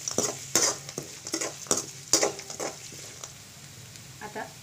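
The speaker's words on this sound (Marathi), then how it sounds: "आता कांदा पण भाजलेली आहे" Onion frying in a pan for a bread masala breakfast, with soft sizzle under repeated scraping and stirring strokes of a spoon against the pan, close and fairly quiet.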